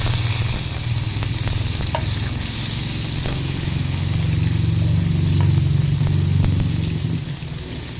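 Onion, garlic and tomato sauté in hot oil in a pan for an eggplant and squash ginisa, giving a steady, loud sizzle throughout with occasional stirring clicks, and no talking.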